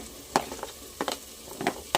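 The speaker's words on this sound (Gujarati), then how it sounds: "હવે આપણે એક એક કરી શાકભાજી ઉમેરી લઈશું" Chunks of potato, capsicum and other vegetables tipped into a pressure cooker for pav bhaji, giving a few sharp stirring clatters over a low sizzle, close and fairly quiet.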